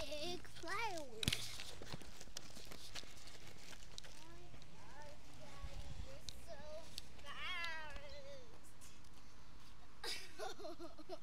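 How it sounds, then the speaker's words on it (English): A cat meows several times outdoors on a city street, the rising-falling cries coming in short bursts over steady background noise with footsteps, and people talking nearby. "We just got chased by a cat."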